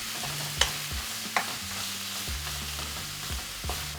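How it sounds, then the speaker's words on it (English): Ground meat frying in a pan with chili flakes, broken up by a spatula: steady sizzle throughout, punctuated by a few sharp scrapes and clacks of the utensil against the pan, close and alone. "Once fragrant, push to one side and drop in the meat."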